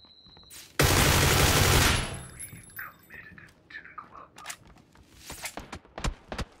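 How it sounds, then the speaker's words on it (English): Rapid automatic gunfire in the battle royale game PUBG, a loud dense burst of shots lasting about a second, followed by scattered sharper single cracks and thumps at varying distances. "Getting shot at from behind."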